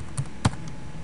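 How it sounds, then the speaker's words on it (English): A few computer keyboard keystrokes, two distinct taps about a quarter second apart, fairly close and moderately loud against quiet room tone, with no talking. "we're going to type this specific keyword into the Google search engine"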